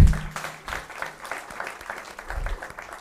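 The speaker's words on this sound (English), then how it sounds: "Go ahead and applaud for him." An audience at an evening conversation event applauds with moderate, fairly even clapping that continues across the whole stretch, with no speech over it.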